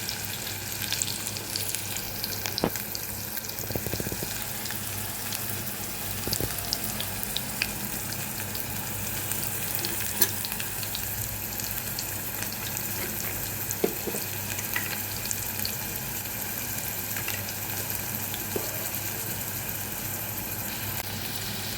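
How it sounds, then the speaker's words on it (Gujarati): Curry leaves sizzle steadily in hot oil in a pan, a continuous crackling hiss with occasional sharper pops and faint clinks, going on for a long stretch without talk. "તેલમાં જ લીમડાના પત્તા નાખી દઈશું."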